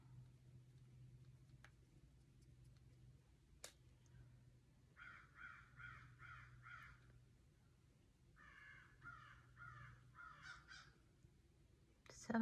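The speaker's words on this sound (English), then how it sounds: "And the crows out there." Crows cawing outdoors, heard from inside a quiet room: two separate bursts of repeated harsh caws, about five in each series, distant and faint over a low steady hum, with a few sharp ticks in between.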